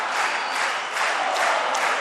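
Crowd noise in a basketball arena during a tied game, a steady roar of cheering and clapping that swells and holds throughout, with no voices standing out.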